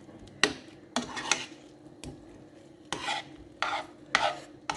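Food is stirred and turned to coat it in sauce, a series of irregular scraping, rasping strokes of a utensil against a dish, close and moderately loud, with short pauses between strokes and no voices.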